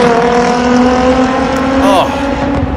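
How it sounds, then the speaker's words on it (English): A loud car with an obnoxiously loud aftermarket exhaust holds a steady droning rumble with strong harmonics, rising briefly near the end as it revs, under some background talk. "that's definitely the most obnoxious sounding exhaust"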